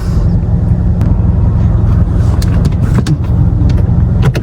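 A 2016 Kia Rio sedan on the move, with a loud, steady cabin rumble of engine and road noise throughout and occasional faint clicks and knocks, and no voices.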